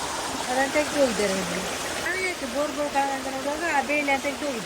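Steady rushing water flows throughout while a person talks over it.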